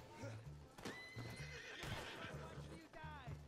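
A video game horse whinnies while its hooves clip-clop in a steady rhythm close by, with a voice talking over parts of it.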